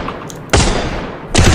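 Loud gunfire bursts from a double barrel gun in a shooter video game, two sharp heavy blasts about a second apart over a steady noisy background, with no talking.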